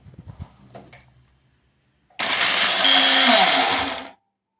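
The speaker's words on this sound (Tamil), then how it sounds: "மிக்சியில் நல்லா அடித்து எடுத்துக்கோங்க" Mixer blender whirring through muskmelon, tomato, ginger, mint and ice for a shake, a loud steady motor roar starting abruptly after a few soft handling knocks and cutting off after about two seconds.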